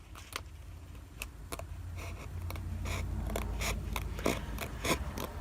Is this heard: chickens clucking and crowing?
no